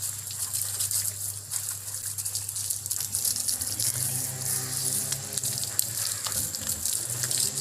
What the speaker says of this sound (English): Just spray a little bit water on the disc and the gear, handle,